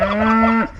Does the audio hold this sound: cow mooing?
yes